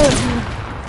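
A single loud hunting rifle shot in the video game Fortnite, a sharp close crack at the start that rings out and decays over the following second.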